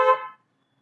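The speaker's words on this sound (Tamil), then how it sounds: "Horn one more." A single short car horn honk during a driving lesson on a road, one clear toot lasting about a third of a second, then silence.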